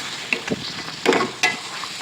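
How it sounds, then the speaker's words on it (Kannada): Green peas frying in oil for potato palya, a close, crackling sizzle broken by a few scraping stirs of a spoon against the pan. "ಒಂದು 5 ನಿಮಿಷ ವಟಾಣಿ ಕಾಳು ಬೇವಿಲಿ ಅದು ಎಣ್ಣೆ ಒಳಗಡೆ ಫ್ರೈ ಆಗಬೇಕು."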